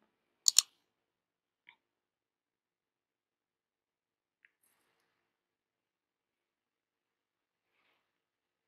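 A computer mouse clicks the sync button in a Gradle-based Spring Boot project: one sharp double click, then two faint single clicks spaced seconds apart in an otherwise silent room.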